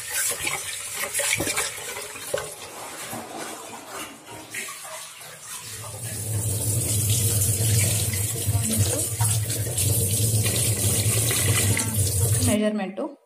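Tap water runs steadily over bullet rice being washed in a home kitchen, the splashing louder and fuller in the second half, with a brief voice early on.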